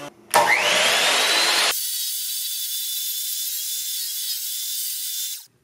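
Miter saw spinning up and slicing through a piece of plywood in a workshop, a short harsh cut lasting about a second, then the blade whines on alone for several seconds before winding down.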